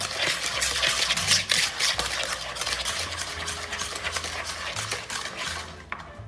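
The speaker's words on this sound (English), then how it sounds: "now we're gonna mix these two together until you cream the butter with the eggs" Butter and eggs being creamed together in a bowl, a steady close scraping and clinking of utensil against the bowl that carries on without a break and stops abruptly at the end.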